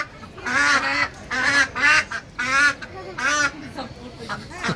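Ducks scuffle in a city park, giving loud, repeated nasal quacks and honks in several bursts close by, with voices of people nearby mixed in.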